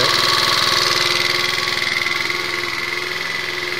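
A 2012 GMW Jet Classic scooter fitted with a 50mm big bore kit runs close by, its small single-cylinder engine putting out a rapid, steady, pulsing idle that is loud and alone.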